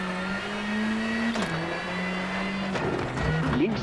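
Rally car engine in WRC Generations droning steadily with a tonal whine that drops at a gear change, then rises and rumbles more roughly toward the end; a voice talks faintly beneath.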